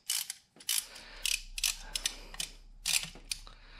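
A ratchet turns a freshly loosened bolt on a 2005 Chevy Corvette, giving short bursts of close, fairly quiet clicking separated by brief pauses.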